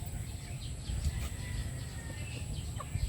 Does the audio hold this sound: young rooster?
yes